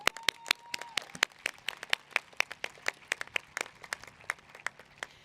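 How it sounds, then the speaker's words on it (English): Scattered, sparse clapping from a graduation audience honoring the class of 2025 at a Medford High School ceremony, sharp individual claps at an uneven rhythm, fairly close, with a faint tone fading early on. "we honor the class of 2025 with just a round of applause"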